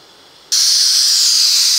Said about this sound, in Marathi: हे बघा एक शिट्टी आपली इथे झालेली आहे.